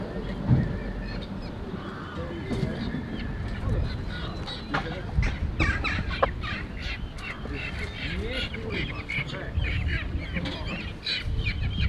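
Ducks, geese and other poultry at an outdoor livestock market in Łomża, with quacking and honking calls scattered throughout amid crowd noise and people talking nearby.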